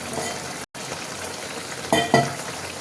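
Fish curry with black cumin and green chili paste cooking in a pan, giving a steady sizzling bubble with two louder bursts of spluttering near the end and a brief dropout early on.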